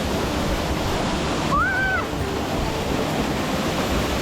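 A rainforest waterfall pool in Costa Rica fills the air with a steady, dense roar of falling water that runs unbroken throughout, and a brief whistling chirp cuts in near the middle.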